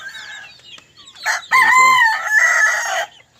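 A rooster crows loudly and close, with chickens clucking briefly around the crow on a backyard poultry feeding outing.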